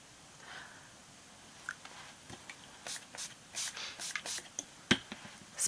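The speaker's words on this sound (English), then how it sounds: "Spraying water definitely helps." Water is spritzed from a spray bottle onto a mixed-media art journal page in quick short bursts, several hissing puffs close by over a quiet background.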